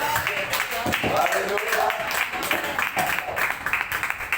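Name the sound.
church congregation applauding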